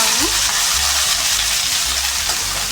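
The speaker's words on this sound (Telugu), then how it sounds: "ఆయిల్ వేడెక్కిన తర్వాత వెండికాయలను వేసుకుంటున్నాను" Okra frying in hot oil in a kadai, a steady dense sizzle that stays loud and close throughout, with low thumps of stirring underneath.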